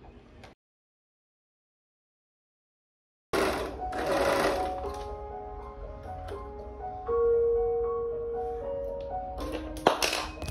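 A sewing machine stitches fabric while homemade vacation clothes are sewn, starting after a silent gap with a steady, close whirring hum that runs in stretches and breaks off briefly near the end.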